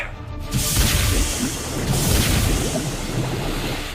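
A submarine firing torpedoes from its tubes in an action movie makes a heavy, rumbling rush of water and deep booming surges that swell and sustain loudly without speech.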